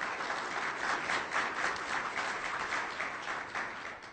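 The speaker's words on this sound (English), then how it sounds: "Let's give a hand." An audience applauds at an NSF workshop on materials and manufacturing, producing a steady, moderately faint wash of many hands clapping for about four seconds before it begins to taper off.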